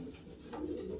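Male racing pigeons coo in a loft, a low, soft, throaty murmur that swells toward the end of a short moment, close by and fairly faint, with no talking.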